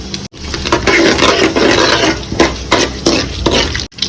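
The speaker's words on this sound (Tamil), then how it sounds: "ஆயில் ஊற்றிடலாம். ஆயிடுச்சு, கருவேப்பிலை போட்டுக்கிறேன். கடுகு, ஜீரகம், கொஞ்சமாக சோம்பு" Curry leaves, mustard seeds and cumin crackle and fry in hot oil in a heated pan, a loud, steady sizzle with stirring scrapes and one brief drop-out before the spattering resumes, with no voices over it.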